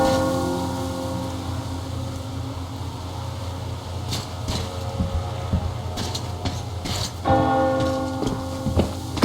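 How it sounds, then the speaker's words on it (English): Bell tolling in the video game Metro Exodus, sustained resonant ringing tones over a steady low mechanical hum, with a fresh strike near the end and scattered clanks, moderately loud, without talk. "Do you hear that bell?"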